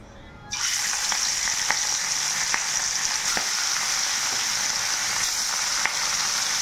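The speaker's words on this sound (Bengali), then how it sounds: "কড়াই সামান্য পরিমাণে তেল দিয়ে মাছগুলোকে একদম হালকা এই পাশ ওপাশ জাস্ট নাড়িয়ে" Fish turned lightly in a small amount of hot oil in a wok: a constant bright sizzle starts abruptly and holds steady, with faint clicks of stirring scattered throughout and no voices.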